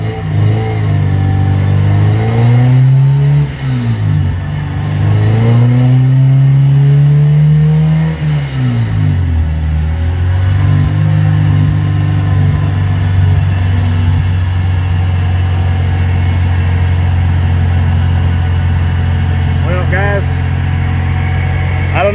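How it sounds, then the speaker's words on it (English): Honda H22A engine on a dyno with VTEC off, revving up and down in several rising and falling sweeps, then holding a steady loud drone, close and continuous. "About to do another pull with VTEC turned off again."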